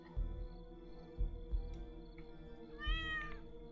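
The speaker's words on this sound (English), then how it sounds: "Kitty cat?" A cat meows in the horror video game Dreadout 2, a quiet, close call rising and falling over a faint ambient hum, preceded by several soft low thumps.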